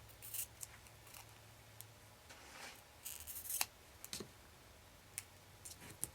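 Scissors snip along the sides of a rubber stamp in a quiet room, a scattered series of faint, sharp clicks and cuts at irregular intervals.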